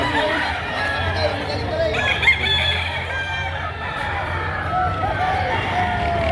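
Chickens and roosters at a poultry market in Padre Garcia, Batangas, with scattered clucks and crowing under a busy crowd murmur, as people talk throughout.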